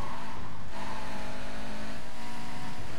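Lamborghini Murcielago race car engine from Need for Speed Carbon, a steady loud roar with sustained revving and a passing rush, continuous throughout with no talk.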